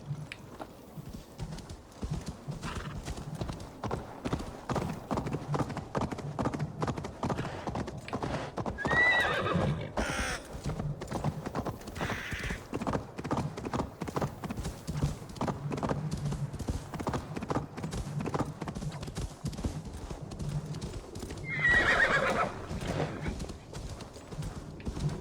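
Horse hooves clip-clop in a steady, rhythmic gallop inside the video game Assassin's Creed Valhalla, with two loud whinnies cutting through around the middle and near the end.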